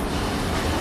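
Train passing through a station in the video game Final Fantasy VII Remake, a steady loud rumble of rail wagons with faint clatter, continuous and close.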